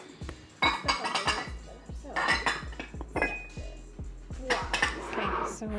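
Metal bowls clink and clatter against one another and other kitchenware as a kitchen is decluttered, with repeated close, bright knocks and rattles in an uneven rhythm.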